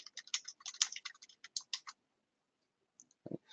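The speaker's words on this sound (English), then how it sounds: "So I can go ahead and start typing my letter." Quick, irregular clicks of keys on a computer keyboard as a letter is typed, about two seconds of close, crisp tapping, then a pause and a couple of final taps in a quiet room.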